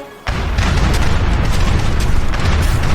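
Heavy ship cannons fire in a burst from an Age of Empires 3 cutscene, a loud sudden boom that rolls into a sustained, dense rumble of explosive noise lasting several seconds.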